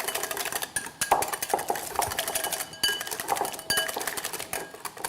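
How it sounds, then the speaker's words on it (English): A whisk beats a seasoning mixture in a bowl, giving a steady run of quick metallic scraping and clinking strokes, close and fairly loud, with no talking. "Take your whisk it all together"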